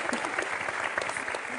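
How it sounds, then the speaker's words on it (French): Brief applause on a French television game show set, dense steady clapping from a studio audience lasting under two seconds. "Je m'applaudis."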